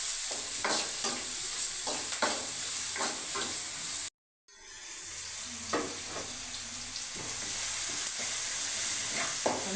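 Tomatoes with ginger garlic paste frying in a pan for a gonguura fish masala curry, a steady close sizzle broken by rhythmic scraping strokes of stirring, with a brief silent gap midway before the hiss resumes.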